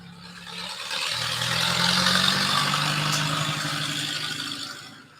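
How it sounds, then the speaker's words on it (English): A farm tractor passes on a country road outside, a steady mid-pitched engine drone that swells as it draws nearer and then slowly fades away, heard from indoors. "I do have the occasional tractor going up the road"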